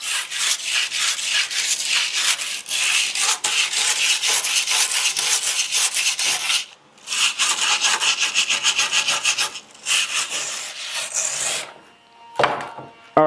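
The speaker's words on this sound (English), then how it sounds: "old wire brush and just slowly go back and forth" Old wire brush scrubbed slowly back and forth across an old wooden farmhouse table, giving loud, close, rhythmic rasping strokes with a few short pauses and a brief knock near the end.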